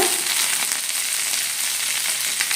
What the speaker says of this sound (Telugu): ఇవన్నీ కొద్దిగా ఫ్రై అవ్వాలి ఒకసారి మిక్స్ చేసుకుందాం